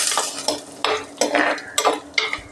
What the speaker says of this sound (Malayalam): ആദ്യം തേങ്ങാക്കൊത്ത് നല്ലോണം മൂക്കണം